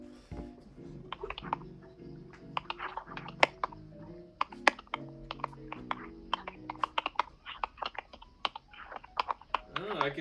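Computer keyboard typing during a writing session, with irregular bursts of quick, soft key clicks close by, heard beneath continuous background voices and tones.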